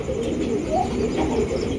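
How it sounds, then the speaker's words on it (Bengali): Black Mundi pigeons cooing close by, a continuous low, throaty murmur of overlapping coos with a faint chirp. "এটা কিন্তু অরিজিনাল ফুল টাচ ব্ল্যাক কালারের মুন্ডি কবুতর"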